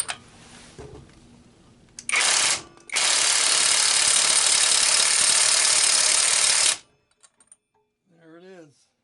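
A big socket on a powered impact tool drives the flywheel nut home on an opposed-twin engine, with short bursts and then a long, loud, steady run of hammering that stops abruptly, followed by brief clatter.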